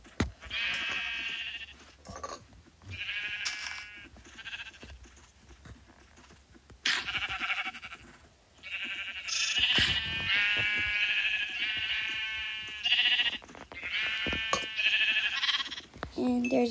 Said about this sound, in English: and there's a baby sheep.